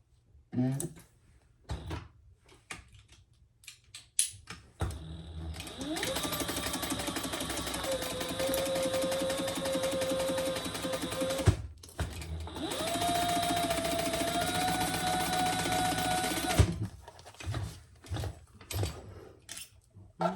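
A sewing machine stitches a seam in caramel ostrich leather, running in two long steady whirring bursts, each around five seconds, with clicks and handling noises before, between and after.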